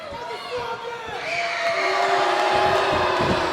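Pro wrestling arena crowd roaring and shouting in reaction to a tag-team match, a dense, sustained swell of voices that grows louder and fuller toward the end.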